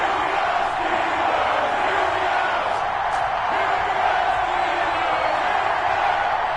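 A stadium crowd in an EA Sports NFL video game, Minnesota Vikings against Pittsburgh Steelers, roars in a steady, dense wash of cheering that holds for several seconds without letup.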